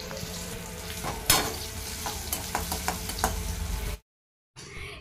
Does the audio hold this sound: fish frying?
yes